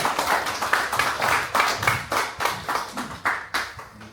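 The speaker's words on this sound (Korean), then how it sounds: "박수 한번 부탁드리겠습니다" Small seminar audience at a Bucheon intangible cultural heritage event claps for a departing speaker, a modest group of hands beating in loose, uneven bursts, fairly close and not very loud.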